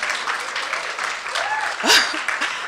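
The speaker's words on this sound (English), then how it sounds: "je vous demande vraiment de l'applaudir parce qu'elle le mérite" A business summit crowd gives sustained applause, a dense clapping texture under scattered voices and a brief shout near the end.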